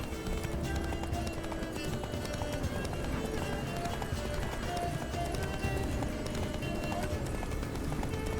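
Horse hooves clip-clopping at a steady run in Witcher 3: Blood and Wine, a continuous rhythmic gallop under game ambience and music, with someone talking over it.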